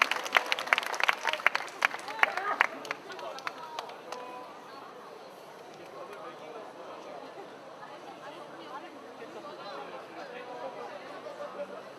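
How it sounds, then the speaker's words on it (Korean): Audience applause at a Sewol ferry victims' memorial candlelight cultural event in Gwangju, with a burst of clapping in the first few seconds that fades into a steady murmur of crowd chatter. "박수 한번 주세요."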